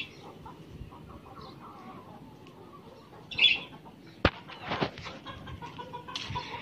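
Chickens and a desi rooster cluck faintly in a rural yard, scattered soft calls with a louder squawk midway and a few sharp knocks near the end.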